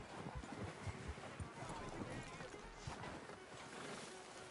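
Horse hooves clip-clop in Red Dead Redemption 2 in a snowy frontier setting, a steady run of soft rhythmic hoofbeats close by, mixed with wind and ambient game sounds.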